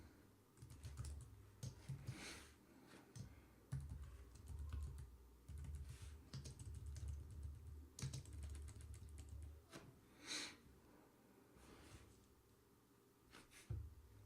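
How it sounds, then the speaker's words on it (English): Keys clatter on a computer keyboard as code is typed, a quiet, close run of quick clicks in uneven bursts with short pauses and some soft thumps. "Let me type this out real quick and then I'll explain it."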